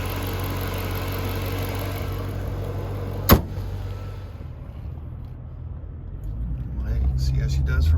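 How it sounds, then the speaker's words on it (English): A supercharged Jaguar XKR fitted with an upgraded supercharger pulley and new belt runs steadily through warm-up, its engine hum continuous and close, broken by one sharp knock midway, then building slightly toward the end. "let's get this warmed up and take it for a test drive"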